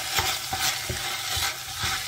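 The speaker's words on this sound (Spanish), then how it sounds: "como el tomate ya está frito, lo dejo un minutito para que se mezclen bien los sabores y lo apago" Tomato frying in a pan gives a steady, close sizzle, broken by regular scraping strokes of stirring about every third of a second.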